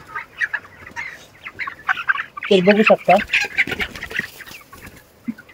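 Broiler chickens on a poultry farm cluck and squawk in a dense, overlapping chorus, loudest in a burst midway, with someone talking briefly over the flock.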